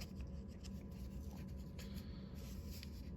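Fingers work at a taped-together paper envelope holding 1985 Topps baseball cards, giving close, soft scratching and rubbing of paper and tape with faint crinkles, no voices.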